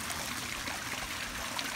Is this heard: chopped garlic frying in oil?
no